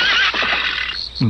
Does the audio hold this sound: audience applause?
no